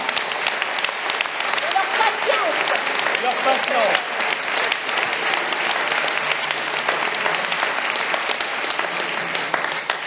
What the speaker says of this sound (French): Vous pouvez les applaudir pour tout